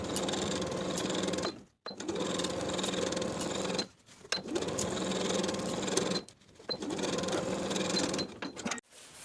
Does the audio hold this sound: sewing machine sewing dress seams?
yes